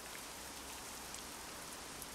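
Steady, even rain in the Euro Truck Simulator 2 driving game, a dense unbroken hiss of drops at constant loudness with no talk over it.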